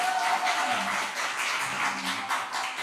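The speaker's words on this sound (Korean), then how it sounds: "박수 한번 박수로 환영해 주시기 바랍니다." A church congregation in a Sunday worship service gives a welcoming round of applause, a steady wash of many hands clapping that fills the room for several seconds without a break.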